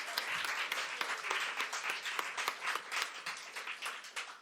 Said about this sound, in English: Yeah, big clap.